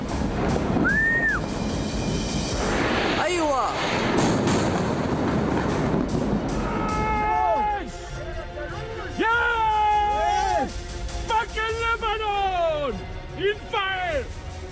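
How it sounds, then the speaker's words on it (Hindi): Israeli bombing of a Hezbollah stronghold in Lebanon, in news footage: heavy, rumbling blast noise fills the first half, then gives way to wavering tonal wails and scattered sounds. "हिजबुल्लाह के गढ़ पर दिन में बमबारी"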